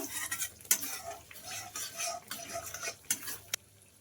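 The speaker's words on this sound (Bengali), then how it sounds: "এখন কস্তুরি মেথিও মশলার সাথে ভালো করে মিশিয়ে কষিয়ে নেব ভালো করে 1 সেকেন্ডের জন্য" Spice paste with kasuri methi stirred and fried in a pan for a taro kofta curry: soft sizzling under scraping spoon strokes, with a few sharp metallic clinks against the pan, close and fairly quiet.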